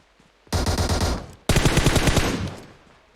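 Two long full-auto bursts from an Uzi submachine gun in PUBG Mobile, rapid close crackling fire with a brief pause between the bursts.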